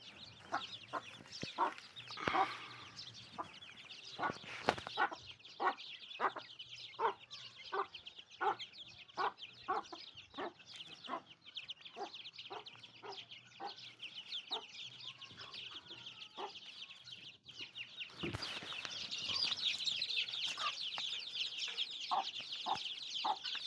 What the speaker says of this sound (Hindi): मुर्गी के बच्चे माशाल्लाह।